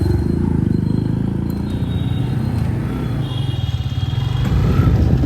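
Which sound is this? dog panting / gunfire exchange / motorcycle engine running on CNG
motorcycle engine running on CNG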